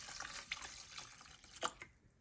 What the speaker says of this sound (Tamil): இந்த கிளாஸில் ஒரு 2 டம்ளர் தண்ணி போடுறேன்.